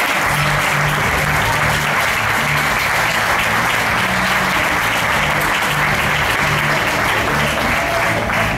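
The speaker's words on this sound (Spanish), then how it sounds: "es justo y necesario reclamar un meritorio aplauso para nuestra rondalla" Loud, continuous applause from an audience at an Aragonese cultural event in a Casa de Andalucía hall, honoring a rondalla string ensemble, a dense unbroken clapping roar with a faint low musical drone beneath.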